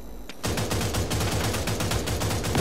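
Rapid automatic gunfire from weapons in the shooter video game Rogue Company, loud and sustained in a steady stuttering rhythm after a brief lead-in, with no talking.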